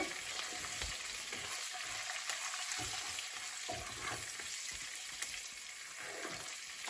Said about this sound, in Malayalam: ഇഞ്ചിയും വെളുത്തുള്ളിയൊക്കെ ഒന്ന് മൂത്ത് വന്നു കഴിയുമ്പോൾ നമ്മൾ എടുത്തു വെച്ചിരിക്കുന്ന പച്ചമുളകും കറിവേപ്പിലയും ഇട്ട് കൊടുക്കുന്നു